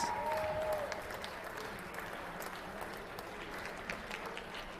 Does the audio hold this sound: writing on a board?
no